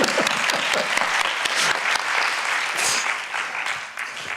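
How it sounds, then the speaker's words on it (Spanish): A conference audience breaks into applause, a dense burst of close and distant hand claps that stays lively for a few seconds before thinning slightly. "Un aplauso"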